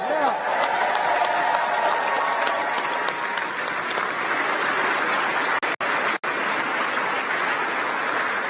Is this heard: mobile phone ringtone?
no